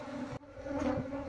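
A steady, close buzzing of a wild bee colony being moved into a hive box drones throughout, briefly dipping then swelling again, with no voices.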